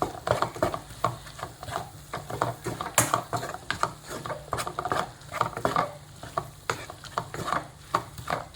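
A spoon stirs chili powder into a curry in a pan, with busy, irregular scraping and clinking strokes over a soft sizzle, close and fairly continuous.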